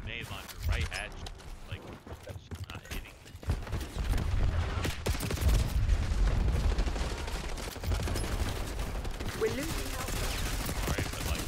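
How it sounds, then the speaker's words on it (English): Gunfire and explosive launcher shots rattle in Call of Duty Black Ops 6, a dense, continuous barrage of blasts and rapid shots with heavy low booms, loud and busy throughout. "Shooting a grenade launcher right at you."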